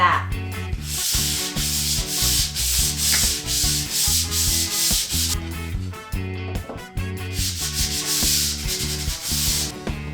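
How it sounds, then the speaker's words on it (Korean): Sandpaper rubs along the grain of a wooden monitor stand kit, with steady back-and-forth strokes in a loud, close, continuous gritty rasp. "사포를 나무의 결 방향으로 밀어줍니다."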